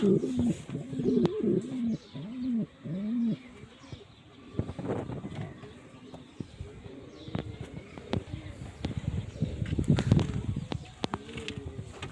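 Pigeons coo in a series of rounded, repeated calls close by, followed by softer cooing mixed with scattered clicks, taps and rustling.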